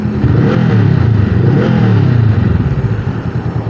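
A motorcycle engine rev-bombed in neutral, loud close throttle blips rising and falling in quick succession with a rough, pulsing exhaust note.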